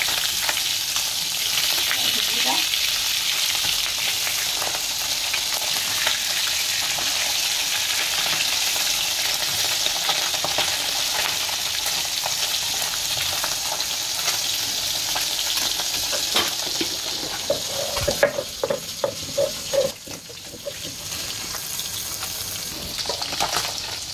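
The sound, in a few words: fish frying in oil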